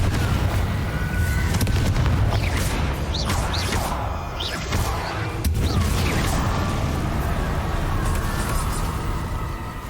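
Confringo blasting spell in Hogwarts Legacy, rendered as a dense, loud wash of crackling blasts and rumbling impacts with whooshing bursts, continuous for about ten seconds amid busy game effects.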